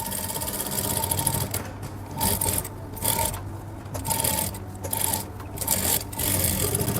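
A sewing machine stitching a thick basting seam along a suit neckline, running in close, loud bursts of rapid rhythmic clatter separated by brief pauses.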